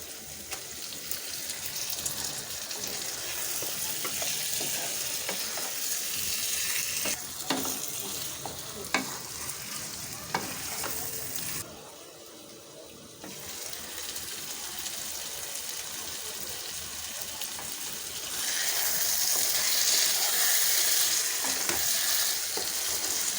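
Chicken added to fried spices sizzles and crackles steadily in a pan, stirred with repeated scraping and clattering; the sizzle briefly drops, then returns louder near the end.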